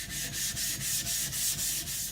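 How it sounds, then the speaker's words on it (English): A sharpening stone is roughened by rubbing, used for sharpening a kiridashi. Steady back-and-forth gritty scrapes repeat in an even rhythm, about four strokes a second, close and alone. "Just doing this to roughen up the stone a little, not to flatten it, but just to get some teeth in the stone again."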